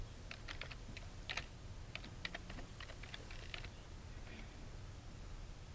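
Keys clack on a computer keyboard in short bursts of light, quick typing close by, over a steady room hum.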